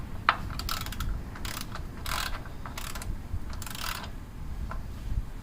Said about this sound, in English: go ahead and get your ratcheting wrench and tighten it down the rest of the way